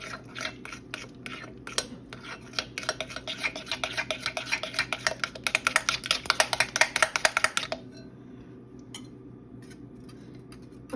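No-knead bread dough is stirred in a bowl with a whisk, giving quick rhythmic scraping and tapping strokes that build in pace and loudness, then stop abruptly, leaving a few faint knocks.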